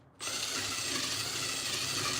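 A motor suddenly whirs up and holds a steady, rough buzz, a drill boring dowel holes into wood, close and constant with no voices.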